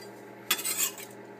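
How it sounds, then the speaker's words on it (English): A spoon or spatula folds a wet mixture into crab meat for crabcakes in a bowl, a single short scrape and clink followed by a soft wet smear, close and quiet with no talking. "Now at this step, you want to fold the wet in to crab meat."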